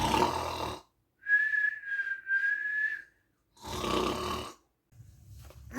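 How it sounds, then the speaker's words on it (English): A cartoon character snores loudly with an exaggerated rumbling breath, one long whistling tone in between, the snores coming in separate bursts with silent gaps. "Bob and Lamb and Frogbear were sleeping, and Sal was obnoxiously snoring."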